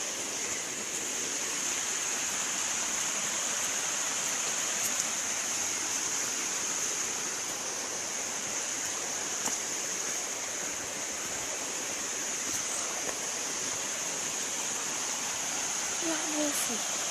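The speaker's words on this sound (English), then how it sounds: "That waterfall. It's awesome. Awesome waterfall." A waterfall roars nearby in a constant, dense rushing wash of water that stays even and loud for the whole stretch, with no breaks and only tiny incidental ticks.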